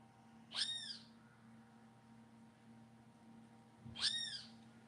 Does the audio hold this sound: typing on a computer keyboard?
no